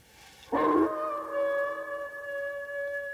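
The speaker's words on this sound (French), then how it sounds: "Les paysans disent que c'est le chien des Baskerville qui réclame sa proie" An eerie, drawn-out hound howl in a Sherlock Holmes radio drama, the Hound of the Baskervilles, rising abruptly then holding a long wavering tone that carries on without talk.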